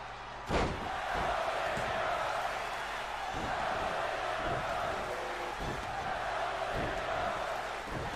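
A wrestling arena crowd in WWE 2K20 roars in a continuous loud wash of cheering, punctuated by heavy thuds and slams from the ring at irregular intervals.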